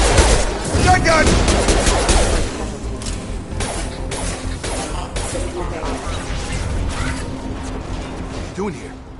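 Shotgun blasts in Mass Effect Legendary Edition ring out as repeated loud, close booms amid heavy combat noise and impacts, with voices talking over the action.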